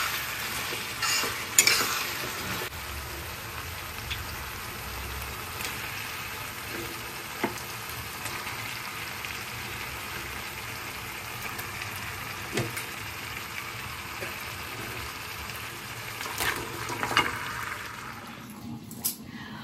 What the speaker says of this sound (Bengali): চিকেনের মশলা কষানো হচ্ছে